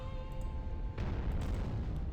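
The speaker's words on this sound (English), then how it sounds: "Let's try wrapping up this turn here with a nice little round of bombard from the Germans" German artillery bombardment in Commander the Great War, a single deep boom with a sustained low rumble after it, fairly quiet and distant-sounding.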